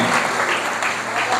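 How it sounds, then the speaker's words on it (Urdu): Church congregation clapping during a sermon, a short burst of loud, continuous applause from the gathered crowd with a faint voice or murmur mixed in underneath. "آئیے خدا کے کلام کے لیے زوردار تالیاں بجاتے ہیں۔"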